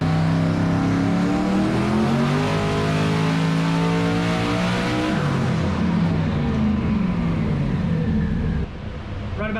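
A 1500 hp Dodge Challenger engine with Holley EFI runs a full-throttle dyno pull at 30 pounds of dome pressure, a loud sustained roar climbing steadily in pitch, then cutting off abruptly near the end.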